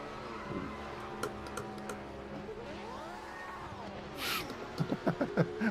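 A GT500 race car in Project Motor Racing reverses with a faint whining gear tone that rises and falls, under low engine hum, ending in a few sharp clicks.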